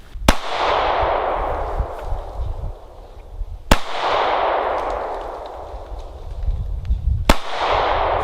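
Three loud, sharp gunshots at a shooting class outdoors, spaced several seconds apart, each with a long rolling echo trailing away, and no talking in between.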